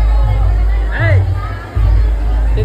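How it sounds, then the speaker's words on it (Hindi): Dense crowd noise fills a busy temple ground, a steady hubbub of many voices close around, with a person talking over it. "और देखो इतना भीड़ है संगवारी यहाँ दे एकदम ज्यादा भीड़ है ना"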